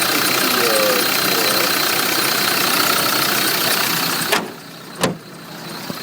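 Land Rover Defender diesel engine idling close by, a steady continuous rumble that cuts out near the end, leaving brief knocks and quiet.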